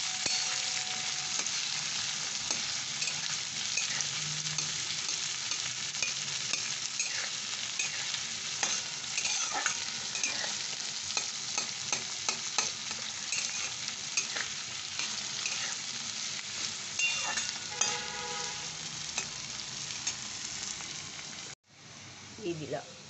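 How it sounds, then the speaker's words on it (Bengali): Potatoes fry in a pan with onion, garlic and green chilli, a steady close sizzle broken by frequent scraping and stirring clicks, with a brief drop near the end. "আমি এবার এই পেঁয়াজ, রসুন আর কাঁচা লঙ্কাটা দিই। এটা এই আলুর সাথেই আমি এটা ভাজা করে নেব।"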